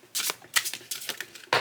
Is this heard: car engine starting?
no